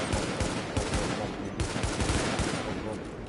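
Rapid automatic gunfire from the shooter video game Tom Clancy's The Division, a dense and continuous rattle of shots that is loud and close, with no pauses across the whole stretch.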